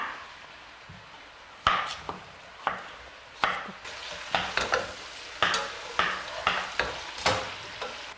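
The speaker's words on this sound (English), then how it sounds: "Cut the potatoes in big chunks." Potatoes being cut into large chunks on a board for Kyrgyz cooking, a series of sharp, separate knife chops at an irregular pace, close and fairly loud, with no talking.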